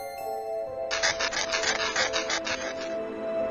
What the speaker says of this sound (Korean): 벅벅벅 마룻바닥 긁는 소리가 나더래요